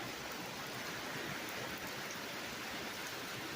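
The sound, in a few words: pouring rain outside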